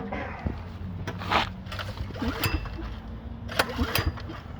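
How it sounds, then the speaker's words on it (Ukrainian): Someone tries to start a petrol inverter generator, with several sharp pulls or cranking bursts over a low, rough mechanical rumble. The engine never settles into a steady run. "Пробуємо тепер запустити генератор."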